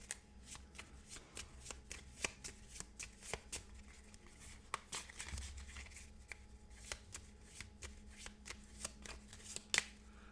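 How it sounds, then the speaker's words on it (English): Playing cards are shuffled back into the deck during a Marvel Match-Up tabletop card game, with repeated soft riffling snaps and flicks in quick, irregular bursts close by, fairly quiet throughout. "This is going to get shuffled back in."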